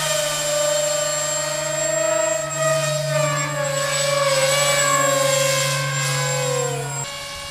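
Electric ducted-fan whine from a foam RC MiG-29 Fulcrum model jet flying aerobatics with flaps down, a steady loud tonal whir that rises and falls in pitch through the passes, with no talk over it.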